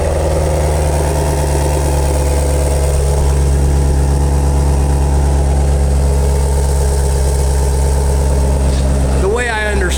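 A convertible with a dual-mode exhaust idles close by, a loud, steady low-pitched burble with a faint mechanical hum and vibration, holding even throughout before a brief higher-pitched noise at the end.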